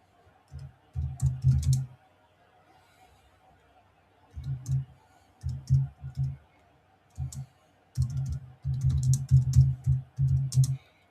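Bursts of computer keyboard typing come in uneven clusters of rapid clicks with short pauses between, fairly close and moderately loud over a quiet room hum, with no talking.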